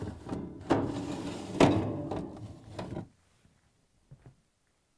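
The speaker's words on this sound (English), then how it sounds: "Next, pull out and remove the lower drawer." A plastic lower freezer drawer of an LG/Kenmore refrigerator slides and bumps out with a few scraping knocks, close up, then near silence with faint taps.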